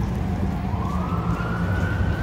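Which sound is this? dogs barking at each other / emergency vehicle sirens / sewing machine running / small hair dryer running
emergency vehicle sirens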